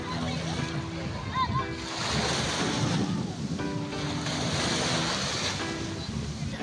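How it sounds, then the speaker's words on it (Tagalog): Sea waves wash onto a beach in a steady, broad surf roar with wind buffeting the microphone, and a few voices talk faintly in the background. "sobrang nag-enjoy si Andrea dito sa paliligo sa dagat"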